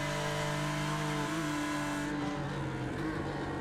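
A simulated race car slides through a sim racing replay at Road Atlanta, its loud, steady engine drone wavering and dropping in pitch with a faint scrub of tire noise.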